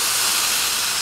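A continuous, fairly loud hiss of steam escapes from a waffle iron during chicken-and-waffles breakfast cooking, steady throughout with no talking.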